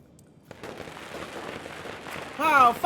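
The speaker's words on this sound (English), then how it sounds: "Wow, firecrackers!" Firecrackers crackle and pop in a dense, rapid burst during a ceremony in the video game Nine Sols, a steady spray of sharp snaps lasting a couple of seconds before a voice speaks over them at the end.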